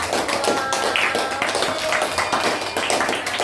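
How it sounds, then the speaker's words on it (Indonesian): People in a school counseling training session clap together, a dense, even patter of hands that continues steadily throughout. "kita tepuk tangan dulu"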